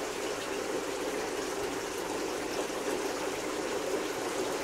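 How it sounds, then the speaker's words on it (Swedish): Steady running water circulating through the tanks of a pike hatchery, a constant even rush and trickle with no pauses, moderately close and alone without voices. "Sätter du på vattnet nu att det börjar cirkulera, är det? Jo, nu är det vattentryck på här."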